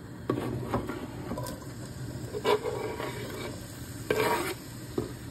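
Oil sizzles steadily in a pan as an onion fries in vegetable oil, with occasional scraping taps from stirring.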